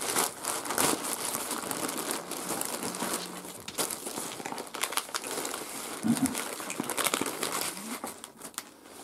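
A plastic parcel shipped from China is crinkled and torn open by hand, with steady close rustling and crackling, a few sharper rips and brief tearing bursts throughout.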